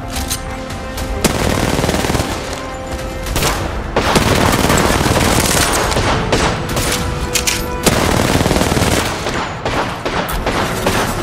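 Rapid automatic gunfire and bursts of shots in an Apex Legends match, with loud repeated volleys and thumping impacts running continuously and densely throughout.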